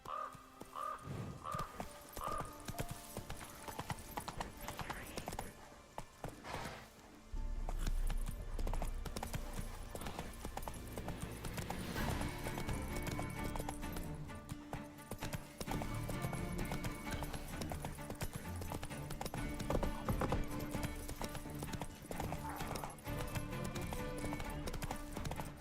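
Roach, the horse from The Witcher 3, gallops with clear rhythmic hoofbeats over a layer of game music, briefly easing before picking up again, with an occasional whinny.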